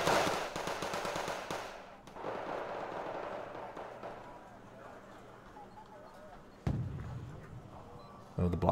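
Rapid bursts of MG3 machine gun and battle rifle fire from a competitive war video game rattle at mid distance, thinning out midway, with louder shots returning near the end under steady commentary talk.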